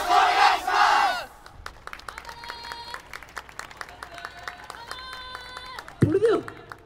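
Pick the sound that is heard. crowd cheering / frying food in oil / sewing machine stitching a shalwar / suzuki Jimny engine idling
crowd cheering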